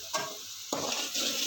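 Spices, salt, chili and turmeric are stirred into a potato and eggplant curry in a pan, with two or three soft scraping strokes over a faint sizzle, close and quiet.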